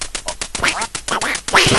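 Rapid, bright duck quacks from the Duck Hunt video game, several short calls in quick succession, loud and close with no voices over them.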